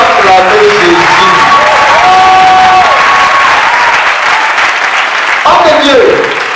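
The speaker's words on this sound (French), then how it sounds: "Oh, il va acclamer Jésus." A church congregation applauding and cheering for Jesus, dense loud clapping from a crowd filling the space throughout, with a voice speaking over it.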